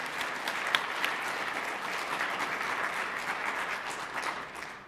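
A lecture audience claps steadily and fairly evenly for about five seconds after a presentation, the applause at moderate distance and slowly fading toward the end.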